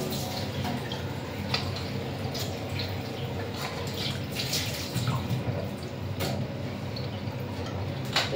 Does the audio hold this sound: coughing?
no